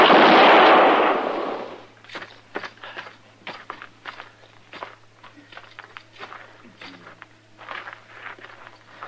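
Gunshots in an old Western radio drama, a loud blast opening the scene, then a run of quieter sharp cracks and footstep-like impacts over a steady low hum.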